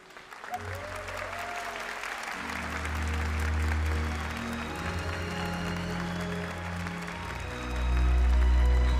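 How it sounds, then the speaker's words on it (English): Spectators at the GT World Series 2025 World Finals Manufacturers Cup grand final applaud the third-place Team Subaru, steady clapping carried under loud droning music and an announcer's voice. "A huge round of applause here for the third place team of Team Subaru, for Danny Solis, for Kylian Drumont and for"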